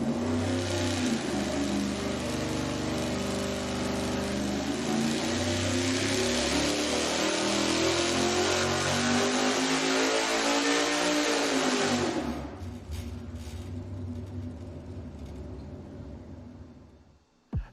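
A high-horsepower V8 on an engine dyno makes a fast pull at 600 RPM per second with lightweight components, roaring loud and rising steadily in pitch for about twelve seconds before cutting off abruptly and winding down.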